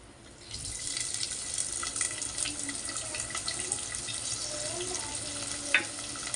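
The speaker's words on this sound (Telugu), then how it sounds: "ఆనియను కొద్దిగా వేగిన తర్వాత గోల్డెన్ కలర్ వచ్చేంత వరకు వేగాలి" Chopped onions sizzling in an earthenware pot while cooking egg curry, a steady close frying hiss that starts after a brief quiet and continues alone with faint stirring.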